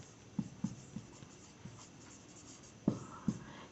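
Pen or chalk strokes on a board or paper during a geometry lesson, a few faint scattered taps and scratches with two sharper knocks near the end, quiet and close with no talking.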